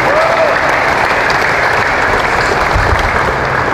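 A church congregation in Salawag, Dasmariñas, Cavite claps together in loud, sustained applause that fills the space for several seconds without a break.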